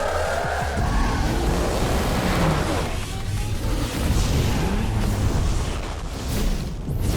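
Toy cars racing in the video game Hot Wheels Unleashed 2 Turbocharged: a dense, continuous roar of engines and skidding tire squeals, loud and unbroken, with no talk.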